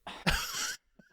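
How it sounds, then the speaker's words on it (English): One dry cough from a person in a podcast recording booth, two quick harsh bursts close to the microphone followed by a brief faint catch of breath. "Everyone's got a dry cough."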